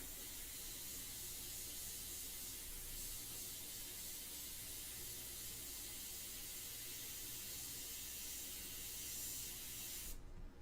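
An airbrush sprays a medium mixture of India ink for a portrait painting, giving a continuous soft hiss that runs evenly throughout at low level, with no talking.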